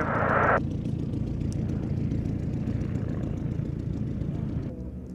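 Piston-engined race aircraft, among them a P-51 Mustang, drone steadily past at an air show race, a broad continuous engine roar holding for several seconds before easing slightly at the end, with a brief louder burst at the start.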